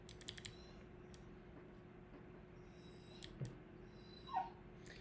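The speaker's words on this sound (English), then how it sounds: "Poor guy's in a ton of pain, so you might hear him whimpering for the rest of the stream." A dog in pain gives a faint, brief whimper near the end, heard indoors over a steady background hum, with light computer keyboard typing clicks scattered through the clip and no speech.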